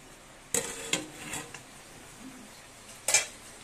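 Meat is sautéed in a pot, with a few sharp metal clinks and scrapes of a spoon stirring against the pot over a faint sizzle, spaced irregularly with quiet gaps.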